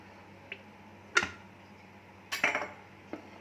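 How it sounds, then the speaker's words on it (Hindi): Metal pan placed on a gas stove in a home kitchen before oil goes in for moong dal kachori stuffing: a few sharp, quiet clinks and clatters spaced apart over otherwise near-silent background. "एक पैन लेंगे, उसमें ऑयल डालेंगे, तकरीबन 1 टेबलस्पून।"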